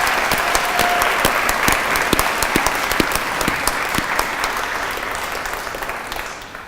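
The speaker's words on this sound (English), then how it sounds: "I think maybe we ought to give them a round of applause for the teachers." Sustained applause from a graduation ceremony audience honouring the teachers, dense steady clapping throughout with a few sharper claps standing out, easing slightly toward the end.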